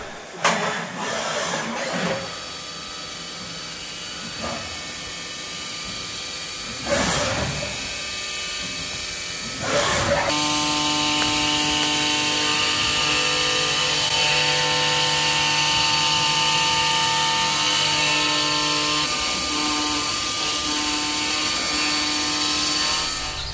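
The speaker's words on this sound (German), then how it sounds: "Da fräst man nicht einmal durch, sondern das sind immer mehrere Millimeter, die man abnimmt." A CNC router mills a toilet adapter plate in several passes of a few millimetres each, giving a loud, steady, whining tonal drone that rises in pitch after a few brief clicks and knocks at the start and then holds constant.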